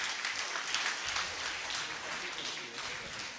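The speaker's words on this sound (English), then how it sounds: "Please give them a big round of applause." Audience applause at a Rotary district governor installation ceremony, a steady, moderately distant wash of clapping from a crowd filling the whole stretch.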